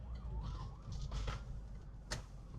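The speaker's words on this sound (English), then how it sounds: "I can hear a siren. I don't want to mess around with them. Okay, that's an ambulance." An ambulance siren wails along the road, rising and falling through the clip with a steady engine rumble beneath, its tone drifting as it passes at moderate distance.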